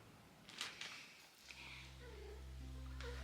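A pet cat purrs close up with a low, continuous rumbling drone, broken early on by a few brief rustling bumps.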